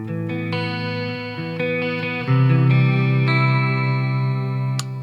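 Clean electric guitar chords from a PRS SE Custom 24 Floyd with Seymour Duncan pickups ring out with a bright, sustained tone and some shimmer, steady and fairly loud with no voices.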